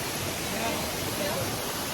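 A waterfall roars around a restaurant built within it in Kaghan, a dense, steady, loud rush of falling water that fills the whole short stretch without pause.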